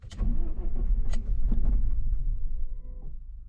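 A rusty BMW E30 cranks over and over without catching, a rapid, close, rhythmic churning of the starter that fades toward the end, rough and uneven throughout.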